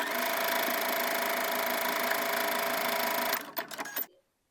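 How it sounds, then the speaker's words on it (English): A sewing machine runs continuously while understitching a dress pocket to its seam allowance, a close, steady mechanical whir with a rhythmic hum that slows into a few uneven final stitches and then stops into silence. "Understitch the pocket by sewing it to the seam allowance underneath with 1/8 of an inch seam allowance"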